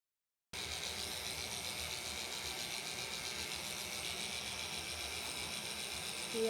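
Electric clippers trimming a poodle's coarse whiskers, a steady close buzzing and rattling hum that runs unbroken after a brief silent start.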